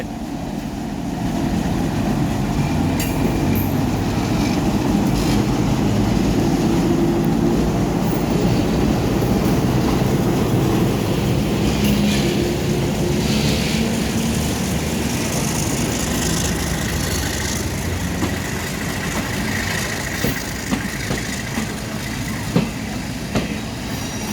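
The Mahananda Mail train pulls out of Jayrampur station with a loud, steady engine rumble and rolling wheel noise, with faint clicks building toward the end.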